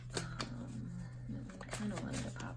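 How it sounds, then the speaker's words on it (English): Tarot cards being shuffled by hand during a reading, soft quiet riffling and tapping in short irregular bursts, close and faint, with a voice speaking over parts of it. "You'll have to excuse my fumbly shuffling."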